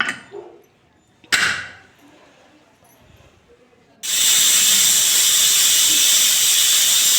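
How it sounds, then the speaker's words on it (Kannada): After a few quiet clatters, a pressure cooker cooking lentil curry bursts into a loud, steady hissing whistle of escaping steam that continues without a break, close up. "ಕುಕ್ಕರ್ನ ಮುಚ್ಚಳಕನ ಮುಚ್ಚಿ ಇದನ್ನು ನಾನು 3 ವಿಸಿಲ್ ಕೂಗಿಸ್ಕೊಳ್ತಾ ಇದ್ದೀನಿ"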